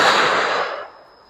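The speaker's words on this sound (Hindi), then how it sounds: "ये सामने शूटिंग रेंज है भाई। धस धस धस गोलियां चल रही हैं।" A single loud gunshot cracks out at a shooting range in Vietnam near the Cu Chi tunnels, then its echo rings and fades away over about a second.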